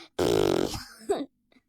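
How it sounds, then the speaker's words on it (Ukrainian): A loud, buzzy fart from a cartoon character, a sustained rasping blast that sputters out, followed by a brief grunt and a faint tail. "Я тільки можу пердіть."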